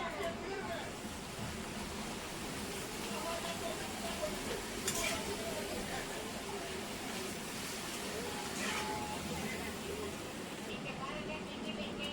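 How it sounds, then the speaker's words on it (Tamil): Appalam frying in hot oil gives a steady, dense sizzle that fills the whole stretch at close range, with faint background noise and no other clear sounds. "இங்க எண்ணெய் காய வச்சிருக்கேன் அப்பளம் பொரிக்கிறதுக்காக"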